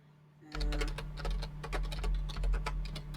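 A strangely shaped computer keyboard clatters with rapid, uneven clickety keystrokes in close bursts, layered over a steady low electrical hum, with no voice heard.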